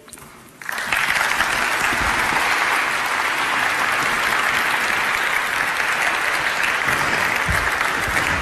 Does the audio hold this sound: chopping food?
no